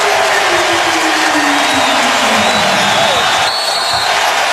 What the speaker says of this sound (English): And the crowd has come alive